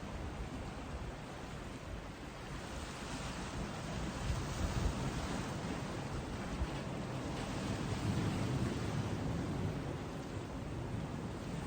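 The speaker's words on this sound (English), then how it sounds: "big swells coming in off that ferry now" Swells from a passing ferry break on a Pembrokeshire shore in West Wales, a steady washing roar of surf that rises and falls gently, with some wind noise on the microphone and no talk.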